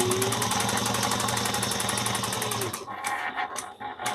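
A sewing machine top stitches fabric, running fast and close with a rapid, even stitch rhythm for nearly three seconds, then cutting off into a few scattered clicks and handling sounds.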